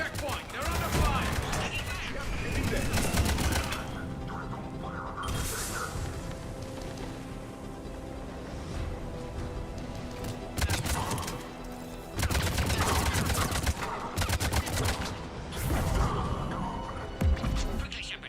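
Rapid bursts of gunfire and crashing impacts from a Mass Effect 3 firefight at a Cerberus-held checkpoint, loud and repeated in clusters across the scene, with voices calling out between and over the shots.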